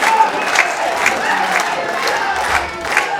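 A wrestling crowd at the P.E.W. Reckoning 2025 show cheers and applauds a high-flying wrestler, a loud, dense roar of voices and claps that holds steady with no break.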